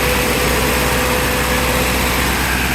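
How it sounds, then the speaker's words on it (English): A 1980 Toyota dually pickup truck engine cold idles steadily and loudly, a constant rough rumble with no talking. "Right now it's cold idling."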